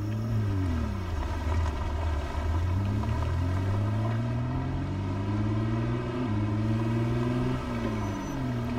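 A car engine in the zombie survival game Project Zomboid drones steadily and loudly as the vehicle is driven, its pitch rising and falling with shifts in speed, with no voices over it.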